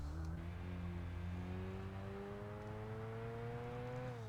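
Rotary-engine car in a racing video game heard from outside, a steady droning engine note that slowly rises in pitch as it revs, continuous and fairly even without pauses.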